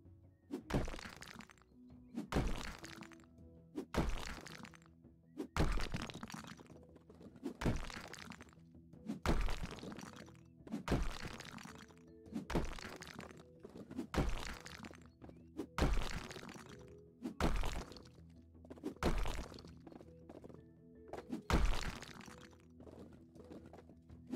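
A wall is demolished in the House Flipper game. Repeated heavy thunks and cracks of blows land at a steady rhythm, roughly every two seconds, each with crumbling debris, for about twenty seconds.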